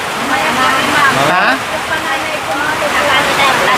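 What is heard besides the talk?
heavy rain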